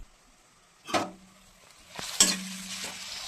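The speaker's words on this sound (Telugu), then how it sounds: "ఇప్పుడు కడాయిలో ఆయిల్ వేసి ఆనియన్ సన్నగా తరిగిన ఆనియన్ వేస్తున్నాను" Finely chopped onions drop into hot oil in a kadai, bursting into a loud sizzle at about one second and again near two seconds, then settling into a steady frying hiss with faint stirring.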